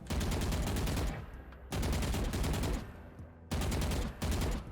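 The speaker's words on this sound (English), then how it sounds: "if you have a Vandal, like I'm gonna shoot a few bullets, then I'm gonna move, and then I'm gonna shoot again" Vandal rifle firing in the Valorant video game, three loud sustained bursts of rapid shots separated by brief pauses, close and dominant.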